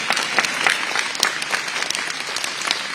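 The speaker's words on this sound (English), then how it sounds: "You can clap for that if you want." An audience at a school choice rally with Governor Joe Lombardo claps, a moderately loud, continuous patter of many hands with scattered sharper individual claps.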